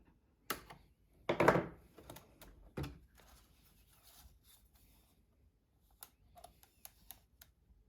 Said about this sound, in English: I'm gonna have to cut the filament because it's stuck in there